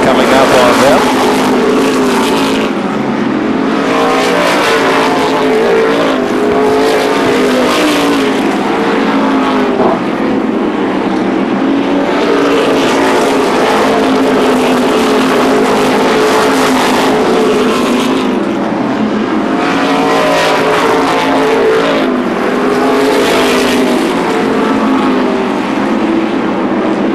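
NASCAR Modified race cars roar around Beech Ridge Speedway in a weekly race, loud engine drones rising and fading as packs pass in waves, with an announcer talking over the racing.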